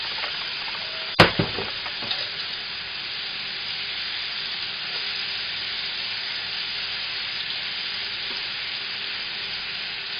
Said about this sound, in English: And it's just a matter of putting it all in. And this will all brown evenly.